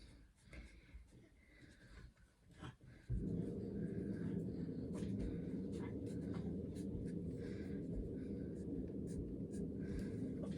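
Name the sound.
writing a label on a seed marker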